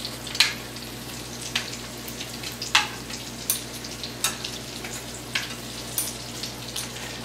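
Chicken nuggets sizzling in a frying pan, a steady close crackle broken by repeated sharp taps and scrapes of tongs turning the pieces, with no voices.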